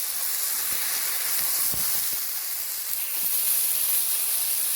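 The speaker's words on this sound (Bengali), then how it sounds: "আমি যেহেতু ঘেরাটাকে খুব হাই ফ্লেমে ভাজছি আর হলুদ আর লবণ দিইনি" Shrimp frying hard in a pan over a high flame, a steady loud sizzling hiss filling the whole stretch with faint pops underneath, no voices.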